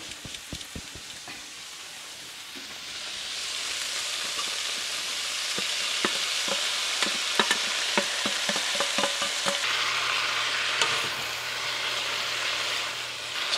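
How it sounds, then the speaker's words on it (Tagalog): Bean sprouts and vegetables for lumpia are stir-fried in a pan with a broad, steady sizzle, close by, and a run of quick spatula scrapes and clicks scattered through it. "Halo ko na rin yung bean sprout."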